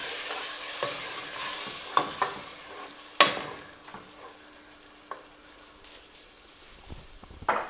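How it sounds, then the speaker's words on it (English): Ground beef taco stew sizzling in a pan while being stirred, a soft steady frying hiss broken by sharp scraping and clinking strokes of the utensil against the pan. "So now I'm going to continue mixing."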